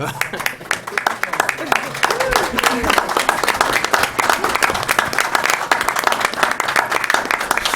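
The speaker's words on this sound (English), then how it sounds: "give him a resounding welcome, a round of applause" Audience applause welcoming a speaker at a diaspora business and economic development event, sustained dense clapping from a large crowd throughout with a voice speaking briefly over it.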